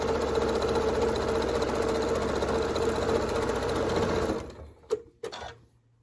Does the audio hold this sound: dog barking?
no